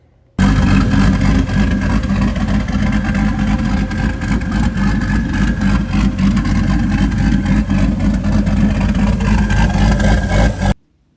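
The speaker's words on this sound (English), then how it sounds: "was just a clip of the car running after doing everything to it" A 2001 Chevrolet Camaro SS V8 runs continuously for about ten seconds, a loud, close, throaty idle with slight rhythmic pulsing and no talk over it.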